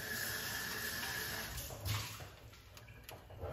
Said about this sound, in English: now let's pour off this water